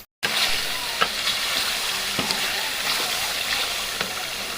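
Garlic paste, about two to three tablespoons, sizzles steadily in a pan for a chicken biryani. A spoon scrapes and stirs it with a few soft clicks over a continuous close hiss, with no talking.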